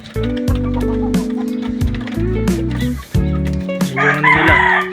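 A 2.5-month-old young rooster crows loudly and close by, several drawn-out calls in a row, with clucking hens and other fowl chattering in the background.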